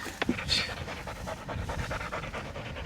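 A 14-year-old dog pants steadily and rapidly up close, a continuous breathy rhythm with a short sharp noise near the start.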